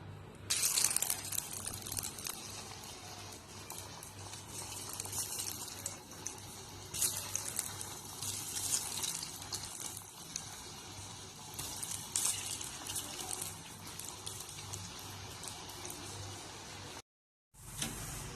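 Cauliflower pieces deep-frying in hot oil, a steady broadband sizzle and crackle that runs close and loud for most of the clip, cutting out briefly near the end before resuming.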